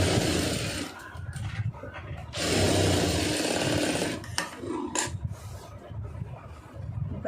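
Sewing machine stitching blouse lining pieces together, a loud close motor whir running in bursts with brief pauses and restarts, no voices.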